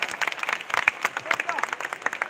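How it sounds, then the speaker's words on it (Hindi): Crowd applause welcoming a speaker at a live public gathering, a dense patter of hand claps, fairly close and lively, with voices mixed in underneath. "जोरदार ताली बजा के स्वागत करिएगा"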